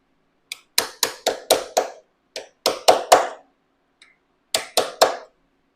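A hammer strikes a chisel against a lock washer while fitting a 13-tooth front sprocket on a Kawasaki KLX300R: about fourteen sharp, close metallic taps, mostly in quick runs, with short pauses between the bursts.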